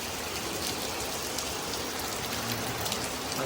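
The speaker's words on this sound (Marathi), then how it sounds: "पाऊस कमी होत नाही काय भरपूर पडतोय सकाळपासून एवढा पाऊस पडतोय" Steady, heavy rain pours down without a break below a railway station in Konkan, a dense hiss with scattered drops spattering close by.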